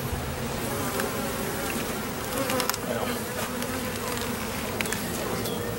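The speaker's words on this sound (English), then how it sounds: "Look how full of bees that is." A dense, steady buzz of many honey bees humming together at close range in a top bar hive, continuous throughout with no talking.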